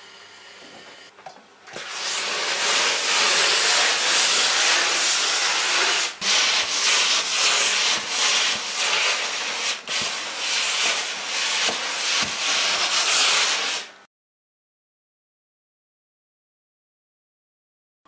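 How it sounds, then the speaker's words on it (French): Steam hisses steadily as knitted garment pieces are pressed in a hosiery workshop, a loud, close, continuous blast of about twelve seconds with small dips and bumps, then it cuts to silence. "il va falloir que je passe tout ça à la vapeur"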